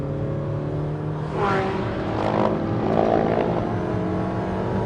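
A Car of the Year 2014 contender drives on electric torque, its engine note swelling with a rising whir as it accelerates, the sound building steadily and staying fairly close throughout.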